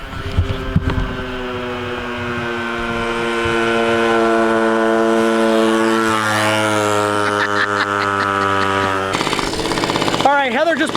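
A free scooter's small engine runs rich after a carburetor jet adjustment, a steady droning idle with stacked harmonic tones that rises slightly midway, then cuts to rougher revving near the end; close and loud with no talk.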